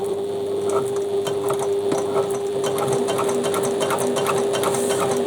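Sewing machine basting the seams of a bag, a steady, loud mechanical whir with fast stitching clatter running continuously throughout.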